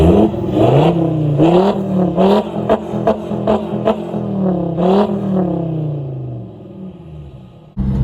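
A 220 bhp five-cylinder diesel Volvo C30 roars loudly through its exhaust nearby, revving up and down in repeated surges before the drone fades slightly.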